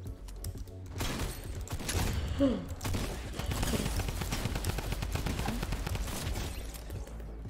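Rapid gunfire in a Fortnite match: a dense, continuous burst of shots rattling loudly throughout, with a voice talking briefly over it.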